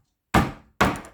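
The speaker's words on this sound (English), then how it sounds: "and also press some garlic, cloves of garlic." Two heavy thunks land close by, about half a second apart, as garlic cloves are pressed against a hard surface.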